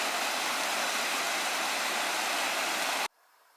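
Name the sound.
waterfall on Maple Pass Loop trail, North Cascades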